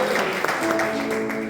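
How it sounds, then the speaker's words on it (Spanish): A church congregation applauds, a brief, dense burst of clapping that fills the room at close range, with voices mixed in. "Y le damos la bienvenida con un fuerte aplauso"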